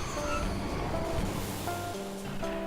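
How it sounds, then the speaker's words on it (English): A train in the town of Timber in Final Fantasy 8 rumbles steadily past, with faint tonal squeals riding over the low, continuous rolling noise. "Oh, another train. Yeah, Timber has a lot of trains actually."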